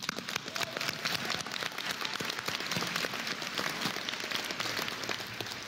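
Steady, dense audience applause for honorees at a Rhodes State College commencement ceremony, a broad even wash of many hands clapping that holds at a constant level throughout, with no talking over it.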